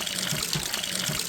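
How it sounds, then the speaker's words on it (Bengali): Stream water channelled through a pipe pours down steadily in the Bandarban hills, a close, loud, continuous splashing gush. "পুরো পানি সারাদিন সারা রাত এরকম আসতে থাকে, এখানে পড়তে থাকে"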